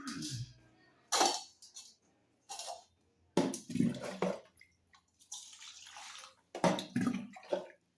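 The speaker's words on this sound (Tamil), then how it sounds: "பழங்களை தண்ணி ஊற்றி கழுவிக்கலாம்." Water is poured over fresh summer fruits to wash them, in several separate splashy bursts with short quiet gaps between them. The pouring is close and clear, and no one talks.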